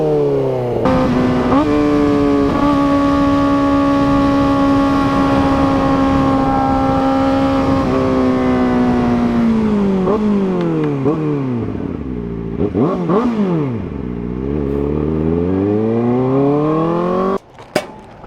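A Kawasaki ZX-4RR motorcycle engine revving hard and high-pitched, holding a long sustained scream before dropping and rising again in several swoops, then cutting off with a sharp click.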